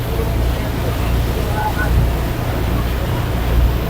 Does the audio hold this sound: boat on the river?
yes